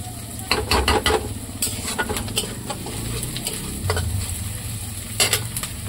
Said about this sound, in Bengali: পেঁয়াজটা ভেজে নিই, তারপরে টমেটো দেবো, পেঁয়াজটা ভাজা ভাজা হোক।